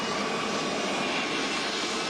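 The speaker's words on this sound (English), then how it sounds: "You can probably hear it's starting to get extremely loud here behind me because the plane is" Air Force One taxis close by, its jet engines giving a loud, steady, broad roar that fills the whole stretch without a break or any voices.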